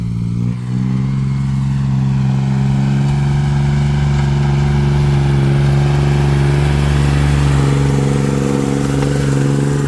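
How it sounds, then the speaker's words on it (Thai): A Kubota L1802DT tractor's three-cylinder diesel engine revs hard and steadily, a loud, close, continuous throbbing roar with a slight clattering edge that holds high and swells gently throughout, with no voices. "เครื่องยนต์สามสูบนะครับ"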